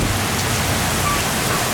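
Heavy rain pours during a tornado storm, a dense, even hiss of downpour that stays loud and steady throughout.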